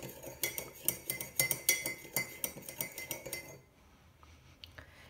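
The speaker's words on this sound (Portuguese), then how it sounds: "Vamos mexer bem." A metal spoon stirs sugar and water in a mug, clinking quickly and rhythmically against the sides for about three and a half seconds before the sound stops, leaving near silence.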